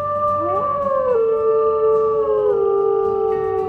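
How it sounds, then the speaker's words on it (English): A single wolf howl from the video game Wolf Quest rises and then glides down over a few seconds, with layered harmonic tones above a soft low hum. "Hold on, let me howl."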